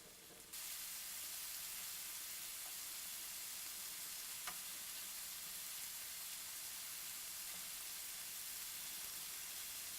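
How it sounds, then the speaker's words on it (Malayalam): Chicken tikka pieces roasting in a pan over a medium-high flame make a loud, continuous sizzle and hiss that starts abruptly and holds steady, close by, with no talking. "മീഡിയം ടു ഹൈ ഫ്ലെയിമിൽ റോസ്റ്റ് ചെയ്തെടുക്കുക"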